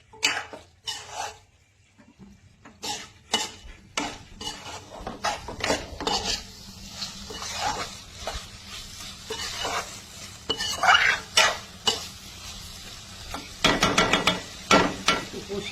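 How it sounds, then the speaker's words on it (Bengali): A spatula scrapes and clatters repeatedly against a pan as pieces of fish are stirred and sautéed, sharp irregular strokes over a low sizzle, close and moderately loud. "এবার মাছটা দিয়ে এইভাবে কষাতে থাকি"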